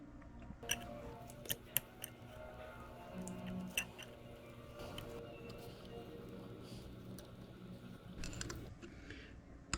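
Lubricated metal tap cutting threads into an alternator bolt hole on a Honda K20Z3 engine, with cutting fluid on the tap; quiet, close scraping and squishy creaks broken by sharp little clicks and ticks.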